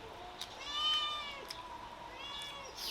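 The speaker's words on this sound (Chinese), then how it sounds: "你看我们家2个咪咪，小黑一天到晚都在叫" A pet cat named Xiaohei meows repeatedly in a home kitchen, a drawn-out cry with a couple of shorter calls, moderately close, over faint background noise.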